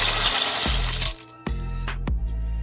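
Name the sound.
penne pasta being added to the pot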